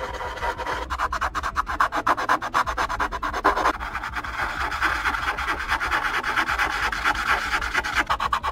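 Colored pencils burnishing a drawing, heard as a continuous, fast rhythm of scratchy back-and-forth rubbing strokes, close up and steady throughout.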